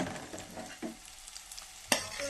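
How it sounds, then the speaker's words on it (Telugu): Capsicum pieces fry and get stirred in a pan, a steady close sizzle broken by a few scraping stirs and one sharp clack near the end. "ఫ్రెండ్స్, ఇప్పుడు మన క్యాప్సికమ్ ముక్కలన్నీ వేసుకోవాలి."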